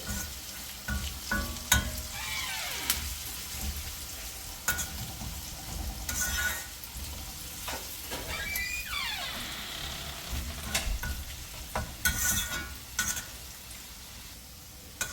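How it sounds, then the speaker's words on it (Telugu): Steady sizzling of ginger frying in a hot pan for a tempering, broken by repeated scraping and stirring strokes, close up with no talking. "జింజర్ పచ్చివాసన పోయిందాక ఫ్రై చేసుకోవాలి."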